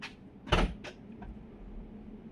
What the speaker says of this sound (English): Now you're going to see the other door open.